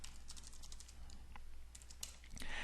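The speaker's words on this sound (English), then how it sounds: "So I can just start typing." Rapid, uneven clicking of computer keyboard keys typed steadily at close range for a few seconds, with no talking over it and a low steady hum underneath.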